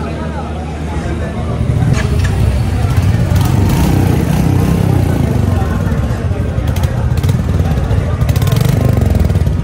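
A Royal Enfield cruiser motorcycle engine and exhaust idle and run with a deep, continuous low rumble, loud and close, while voices chatter in the background.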